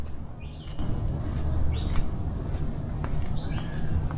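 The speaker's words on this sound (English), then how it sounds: "Just listen to the birds." Birds sing along a quiet nature path in Hong Kong, with several short, thin chirps and whistles scattered over a rushing outdoor background, fairly distant.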